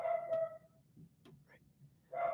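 Dogs bark indoors, a couple of sharp barks at the start and another near the end, fairly close, with quiet gaps and faint yips between.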